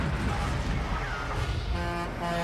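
A truck horn blares in a TV commercial, sustained tonal honking layered over road traffic rumble, loud and steady throughout, with no talk.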